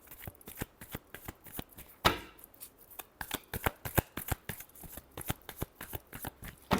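Tarot cards are shuffled by hand in a fast run of crisp riffling flicks with one louder burst near the middle, close and alone with no talk.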